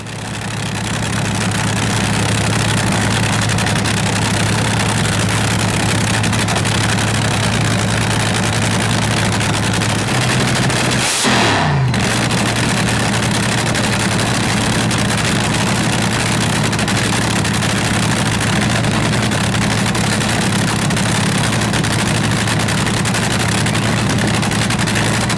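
A nitro-burning slingshot dragster engine runs steadily and loudly, a constant low heavy drone with a brief sharp blip midway, no talk.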